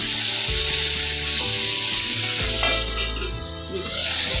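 Tomatoes sizzle and fry in oil in a pan while a bhendi fry is being made without onion or garlic, giving a steady, close crackling hiss with a few soft stirring shifts and no talking.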